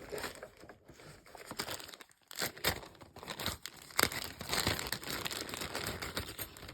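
Glittered vellum paper flowers being cut out by hand, with close, soft crinkling and snipping of the stiff paper in an irregular rhythm.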